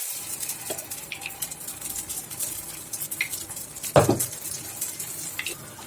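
Rice batter sizzles as it goes into a hot kuzhi paniyaram pan, with steady frying hiss and a louder burst near the end as more batter lands in the cups.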